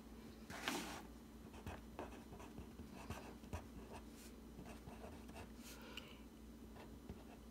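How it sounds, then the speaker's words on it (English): A pen scratches across paper in a math notebook, producing quiet, close strokes and short taps in an irregular rhythm over a faint steady hum. "let's just write it down right here"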